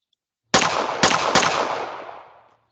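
Three gunshots ring out from a first-person shooter game built in Unity, the first two about half a second apart and the third close behind, each with a long reverberant tail that fades over a couple of seconds.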